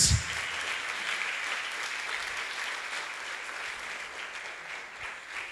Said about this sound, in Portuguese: Queria que vocês humildemente aplaudissem a Jesus